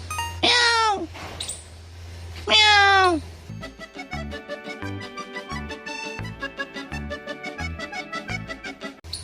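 A cat gives two clear, loud, close meows in quick succession. A rapid rhythmic ticking pattern follows and carries on to the end.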